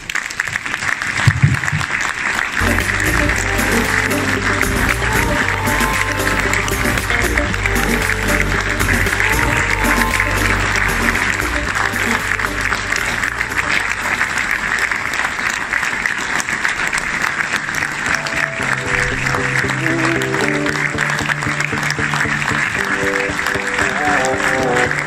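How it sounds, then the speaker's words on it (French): A minute of sustained applause from an audience at an aligot event in Graulhet, loud and continuous, with tonal music playing through it and crowd noise underneath. "je vous demande de lui dédier une minute d'applaudissement"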